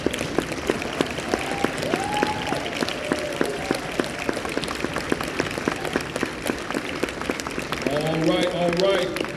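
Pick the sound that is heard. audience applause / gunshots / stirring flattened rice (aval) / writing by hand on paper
audience applause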